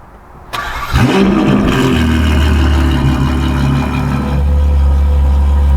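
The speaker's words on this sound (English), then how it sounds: "Cold start. So this is what it sounds like." A Ferrari 812 GTS with a Novitec exhaust cold-starts, cranking and firing at about one second, then settling into a loud, steady, rumbling idle with a slight rise near the end.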